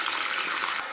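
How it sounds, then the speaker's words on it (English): Cold tap water runs steadily over rice being rinsed in a home kitchen, a close, continuous broadband rush that drops off abruptly near the end. "now rinse your rice under cold running water to get rid of any dust and all the starch"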